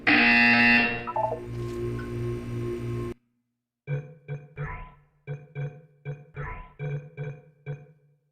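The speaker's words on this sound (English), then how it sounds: "You will hear a buzzer." Electronic buzzer tones in the Portal 2 video game: a long sustained buzz followed by a pause, then a series of short, repeated beeping pulses in an irregular rhythm.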